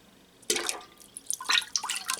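Buttermilk poured into fresh milk for making cottage cheese: after a quiet start, a sudden close splash, then uneven liquid trickles and drips that grow busier toward the end.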